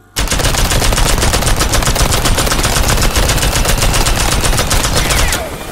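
Rapid, continuous gunfire from the video game Worms rattles out in a loud, unbroken burst lasting several seconds, then stops abruptly.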